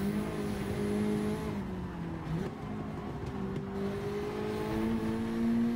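A Honda Integra in Gran Turismo 7 at the Nordschleife holds a loud, continuous engine drone, pitch sagging then climbing again as the throttle is pressed coming out of a corner, with a faint squeal of tires.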